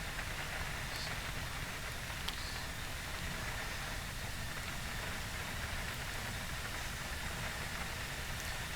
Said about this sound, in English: Too bad XEnviro doesn't show the actual windshield effect with the rain.